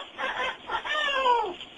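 A young boy imitates a rooster crowing with his voice, a short sequence of rising and falling vocal calls, close and fairly loud, with no other talk.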